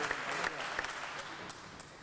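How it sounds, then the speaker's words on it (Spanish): At a seminar on the role of the media in Latin America, an audience claps in a steady, fairly soft wash of applause that tapers slightly toward the end. "por quien pido un fuerte un aplauso y abrazo de todos los acá presentes"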